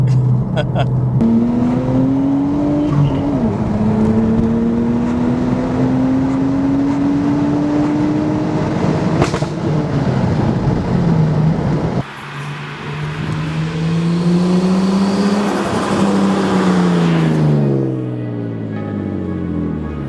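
A Nissan Skyline R34 converted to a 5-speed manual gearbox from an R33 GTST drives and accelerates, its engine rising steadily in pitch through a gear, dropping at a shift, then pulling again in a continuous loud drone.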